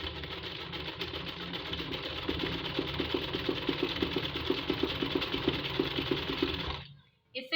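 Sewing machine stitching a kameez border, running in a fast steady mechanical rhythm of close repeated stitch clicks, then stopping abruptly near the end.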